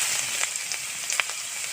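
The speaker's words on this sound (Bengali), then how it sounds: "পটল ভাজা তেলের ভেতরে ফোড়ন দিয়ে দেবো কালো জিরে," Black cumin seeds and chopped onion sizzle in hot oil that was used for frying pointed gourd, a steady bright hiss with a few sharp pops and crackles.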